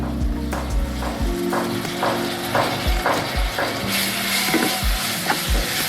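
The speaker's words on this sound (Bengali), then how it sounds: "টমেটোর সাথে একটু আমি 2 মিনিটের মতো এটাকে কষিয়ে নিব।" Chicken with chopped tomato and onion frying in a pan, a steady sizzle broken by repeated scraping stir strokes at a near, even pace, with no voices.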